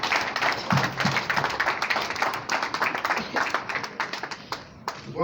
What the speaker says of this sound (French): Oui, applaudissez la deuxième signature.